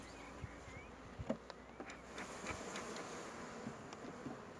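Honeybees hum and buzz steadily at an opened hive during an inspection, their close drone joined by light handling clicks and scrapes.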